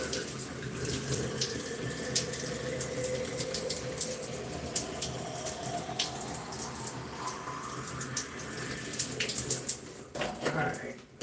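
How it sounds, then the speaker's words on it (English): Hot water runs steadily from a turned nozzle into a bottle, a continuous splashing stream from start to finish, with faint background noise and a brief clatter near the end. "let me turn this nozzle so we can fill this bottle quickly"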